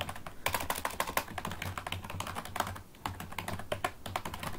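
Password being typed on a computer keyboard during account setup, a steady run of close, crisp key taps alone with no talk.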